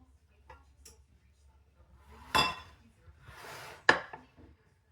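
A knife cuts through a chocolate chip cake on a plate or board, giving two distinct soft thuds with light scraping between them, quiet and close in an otherwise hushed kitchen.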